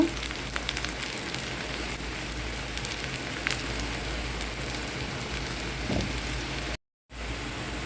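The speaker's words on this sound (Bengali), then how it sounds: "পেঁয়াজটা একদম বাদামি করে ভেজে নিব" Onions frying in hot oil until brown while making tomato chutney, a continuous soft crackling sizzle with scattered pops, steady and close, briefly cutting out near the end.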